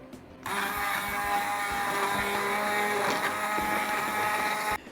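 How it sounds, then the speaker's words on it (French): An immersion blender starts abruptly and runs at a steady, high-pitched whir, mixing butter into infused milk close up, with slight changes in tone as it churns. "je mets 2 carrés de beurre, mixer en fait le beurre dans le lait tout simplement"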